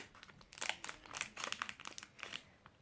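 A plastic packet of fake snow is pulled open by hand, giving close, continuous crinkling and crackling with sharp rustles, no voices.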